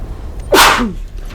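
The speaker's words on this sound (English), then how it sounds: "Bloody sneezes." A single sharp human sneeze, close and loud, with an audible intake of breath before the burst, set against a quiet room hum.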